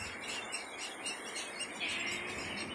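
Egret chicks in a nesting colony, seen in their natural habitat, call in thin, continuous high squeals and chirps. Several birds overlap under a steady outdoor hiss, fairly close, with no talking.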